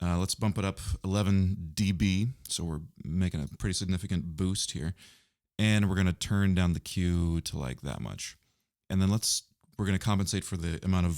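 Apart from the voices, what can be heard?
No everyday noise stands out behind the speech.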